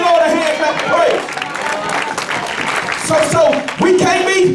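A church congregation claps hands in praise during worship, producing a loud, continuous wash of applause with cheering voices and a preacher speaking over it.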